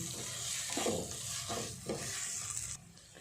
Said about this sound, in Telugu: ఇలా రెండు నిమిషాల పాటు మసాలాను బాగా వేగనివ్వాలి